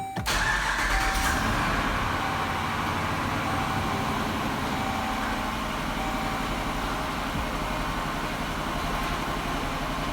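A 5.7L Hemi engine in a 2011-2018 Jeep Grand Cherokee cranks and catches, then settles into a steady, close, rumbling idle that continues without a break.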